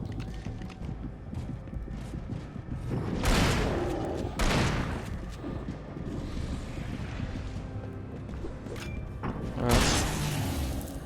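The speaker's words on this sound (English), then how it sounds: "Come on, I'm shooting." Gunfire from shooting in the video game Alan Wake on Nightmare difficulty, several loud bursts standing out over a rumbling, windy background, with a bit of voice present.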